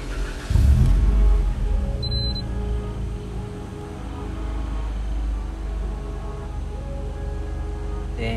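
A 2016 Mitsubishi Lancer EX GT-A engine cranks and catches with a loud burst, then settles into a steady, close idle that holds for several seconds with no clear revving.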